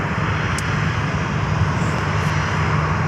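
A United airliner taking off at Fort Lauderdale airport, its engines giving a loud, steady roar throughout.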